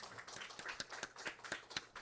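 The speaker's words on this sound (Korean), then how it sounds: "우리 박수 한번 칠까요?" A Sunday church congregation claps together, a short, faint burst of quick, uneven hand claps in a large room.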